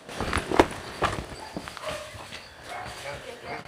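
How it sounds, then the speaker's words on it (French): Hunting dogs bark in short, sharp bursts during a deer hunt in the outdoors, with several loud yelps near the start that then thin out, while people talk over them. "L'aboiement change quand c'est un cerf."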